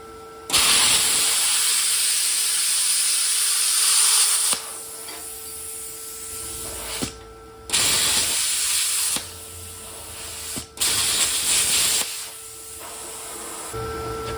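Yeswelder Cut-65DS plasma cutter slicing 20 gauge sheet metal, a loud steady hiss in several long bursts separated by short pauses, close and alone.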